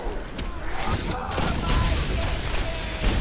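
Rapid pistol gunfire in the shooter game Borderlands, dense repeated shots and impacts layered over a busy, loud combat soundscape.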